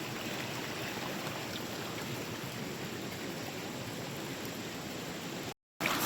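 River water flowing steadily through a diverted stream channel, a continuous broadband rushing wash, fairly close, cutting out briefly near the end.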